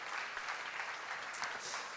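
Applause from a church seminar audience, a brief, dense burst of clapping filling the room at moderate volume with no voices over it.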